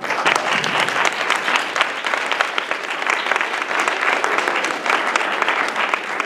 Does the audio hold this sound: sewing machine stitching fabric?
no